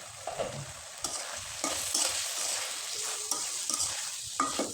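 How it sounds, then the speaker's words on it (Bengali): Potatoes and mixed vegetables boiling in a pan get stirred, a steady bubbling sizzle broken by scraping and knocking strokes about once a second, moderately close, with no voices. "কিছুক্ষণ সিদ্ধ করার পরে এবার কিন্তু ভালোভাবে নেড়ে চেড়ে দিতে হবে"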